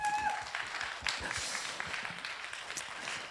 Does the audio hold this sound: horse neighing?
no